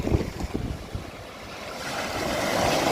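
Mediterranean waves breaking at the shore with gusting wind, starting with choppy splashes and buffeting, then building into a broader rushing wash, close and moderately loud, with wind noise on the microphone and no speech.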